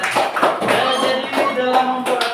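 An audience claps during a classroom simulation session, a short burst of many hands applauding at close range with fairly even loudness throughout, while a voice or two can be heard faintly underneath.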